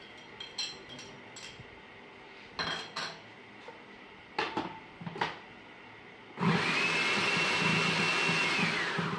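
Several light clinks of kitchen utensils come first, then an electric chopper starts up and runs in a steady whirring buzz while chopping onion for a shami kabab mix.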